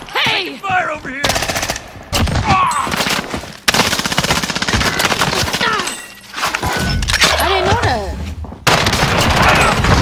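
Automatic gunfire in Call of Duty Modern Warfare, loud bursts of rapid shots repeating through the clip with brief gaps between volleys, with voices shouting over some of them.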